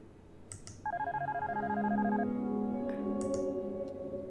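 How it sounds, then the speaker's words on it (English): A phone rings in the horror game Darkness Within, a warbling electronic trill that repeats in quick pulses for over a second and then holds steady under soft background ambience, with a couple of short clicks. "No, that's your phone."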